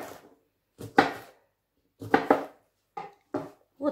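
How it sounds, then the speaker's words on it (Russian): Several crisp knife cuts slice thinly through a sweet bell pepper onto a board, coming in small clusters separated by brief silences, close by. "И вот так вот тоненько нарезаем как можно потоньше, режем перчик сладкий."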